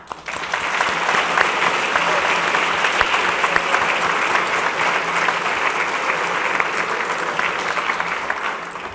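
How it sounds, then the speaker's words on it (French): An audience gives teachers at a Cégep de Jonquière ceremony a sustained round of applause. Dense, loud clapping fills the whole stretch, with a faint murmur of the crowd underneath. "j'aimerais ça qu'on donne une bonne main d'applaudissements à tous les professeurs du Cégep de Jonquière"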